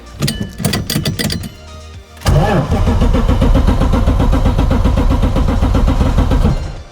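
A BMW E36 car engine cranks briefly, then catches and settles into a loud, steady running idle close by.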